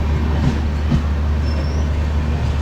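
Continuous low rumble of a Sampark Kranti Express train rolling into a station, with a faint metallic squeal partway through, fairly close and steady.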